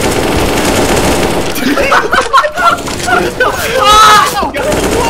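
Automatic AK rifle fire in a video game, a dense, loud stream of shots running almost throughout, with a player's voice and laughter breaking in near the middle.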